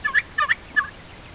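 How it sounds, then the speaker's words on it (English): Turkey gobbling in a coop, three quick rattling gobble bursts in close succession, fairly near and clear with no talking. "One of the turkeys has started gobbling"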